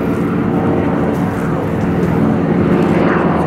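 Propeller aircraft engine droning steadily at a Breitling Wingwalkers air show display at Volkel, a loud continuous hum with harmonic tones throughout, no talking.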